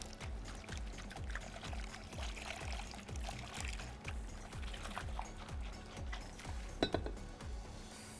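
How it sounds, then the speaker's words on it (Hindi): Water is poured into flour in a bowl while preparing a batter for fried chicken, a faint trickling pour with soft clinks of utensils in a quiet kitchen. "हम इसमें पानी शामिल कर देंगे।"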